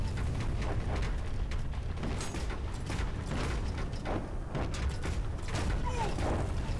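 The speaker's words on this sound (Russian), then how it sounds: "он Катюшей стреляет." Katyusha rocket launcher fire in a tank video game: a dense run of rumbling booms and mechanical clatter at close range, with sharp bursts scattered through a busy low roar.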